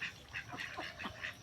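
Native ducks bathing give several short, quiet quacks in quick succession over soft background noise.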